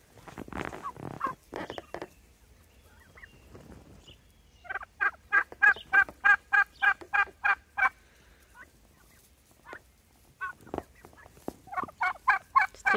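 Turkeys on a farm gobble in rapid rattling bursts, one long run of repeated calls in the middle and more toward the end, fairly close with quiet gaps between.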